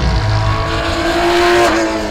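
A Porsche 917 race car engine revs hard and steady, its harsh tone climbing and then dropping slightly near the end, loud and close with no voices.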